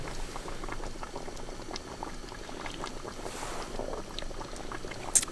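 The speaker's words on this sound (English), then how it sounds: "Can hear it kind of boiling in there. Hopefully those noodles are getting soft." Noodles boil in a pot during winter truck camping, giving a steady bubbling hiss with scattered small pops and a louder pop near the end. The sound is close and continuous, with no voices.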